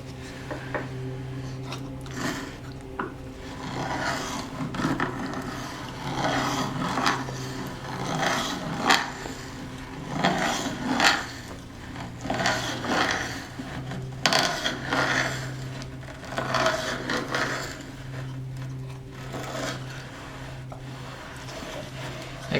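A wood threading tap cuts threads into a wooden dowel through a hole in plywood, producing steady close scraping and grinding with irregular creaks and squeaks over a low continuous hum.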